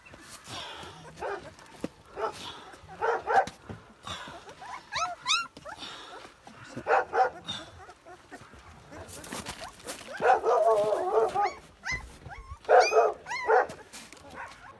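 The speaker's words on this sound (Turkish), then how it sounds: "Anneleri ölen yavru köpeklere yeni anne bulduk." Newborn puppies left motherless whimper and yip in repeated short, high cries, fairly close, interspersed with brief human speech and a few sharper barks.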